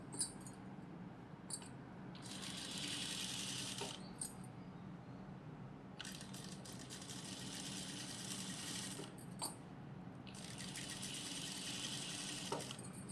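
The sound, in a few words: sewing machine stitching a chudithar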